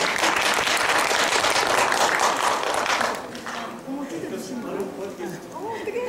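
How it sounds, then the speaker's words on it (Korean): A lecture audience breaks into dense, loud applause for about three seconds, then it cuts off and a speaker talks over a quieter room. "박수 한번 주세요."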